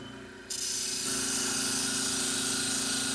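A power sharpening machine grinding a little material off the handle of salon shears, starting up after a brief quieter hum and settling into a loud, steady, continuous whine.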